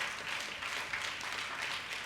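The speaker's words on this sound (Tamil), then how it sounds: "கை தட்டுங்க பார்க்கலாம்" Church congregation clapping hands together during a Sunday service, a steady continuous wash of applause with no pauses.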